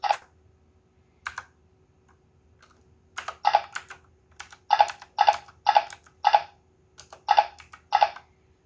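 Keys clacking on a TYLEX XZ66 mechanical gaming keyboard, first a few isolated presses, then a brisk rhythmic series of crisp, close keystrokes in quick pairs, with no speech.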